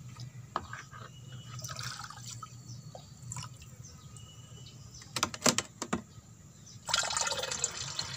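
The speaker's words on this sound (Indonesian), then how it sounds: "Selanjutnya kita tinggal isi dengan air kelapa ya teman-teman." Coconut water pouring into a container while homemade organic fertilizer is mixed, with scattered drips and trickles early on, then a brief clatter and a louder, steady splashing fill near the end.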